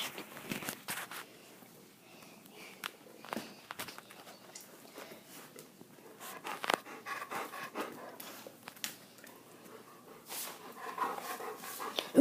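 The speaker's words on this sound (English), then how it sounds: "Who's breathing?" A dog panting heavily and rapidly at close range, with quick rhythmic breaths and some shuffling footsteps and paw patter.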